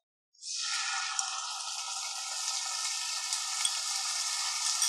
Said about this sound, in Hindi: अब इसमें डालेंगे लहसुन अदरक का पेस्ट